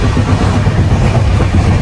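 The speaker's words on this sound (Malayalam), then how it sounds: "അവസാനം നമുക്ക് ട്രെയിൻ കിട്ടിയിട്ടുണ്ട്." A loud, continuous low rumble of a moving train fills the whole stretch, with no talk.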